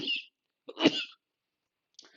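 A speaker with a cold coughs, two or three short harsh bursts close to the microphone separated by brief silences.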